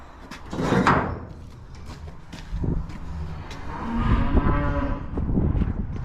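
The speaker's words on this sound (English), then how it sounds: "the cows are getting quite hungry" Hungry cows on a farm mooing several times, with deep, drawn-out calls close by that swell and fade in turns.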